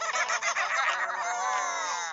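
A voice imitates a rooster crowing in a children's cartoon song, giving one loud, drawn-out call that wavers and slides downward near the end.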